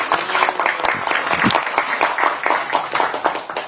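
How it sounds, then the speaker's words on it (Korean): A crowd at a Democratic Party campaign event in South Korea claps loudly, with sharp individual claps standing out from a steady wash of applause that carries on throughout. "큰 박수를 보내주시기 바랍니다."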